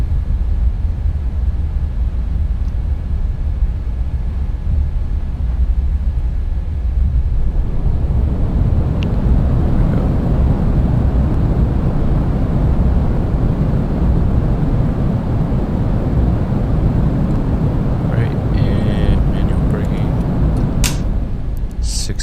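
Boeing 787-8 airliner in Microsoft Flight Simulator applying reverse thrust after touchdown, a steady broadband engine roar that swells from about halfway through and holds loud and continuous to the end.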